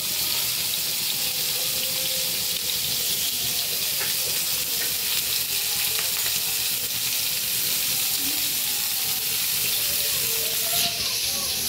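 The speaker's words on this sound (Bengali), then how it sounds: "তাওয়া পাতি দিয়ে ইলিশ মাছগুলো ভাজা নিব" Turmeric- and salt-rubbed hilsa fish frying on a flat griddle, a constant loud sizzle that runs the whole time with faint clinks and kitchen sounds underneath.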